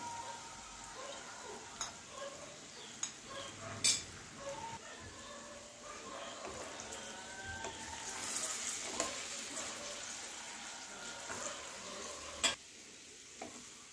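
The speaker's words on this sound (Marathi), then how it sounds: "आता आपण जो लोणच्याचा मसाला बनवला आहे तो याच्यामध्ये घालून घ्यायचा आहे।" Homemade carrot-radish pickle has its pickle masala stirred in, giving soft scraping and mixing sounds with occasional light clinks of a utensil against the container, fairly quiet throughout.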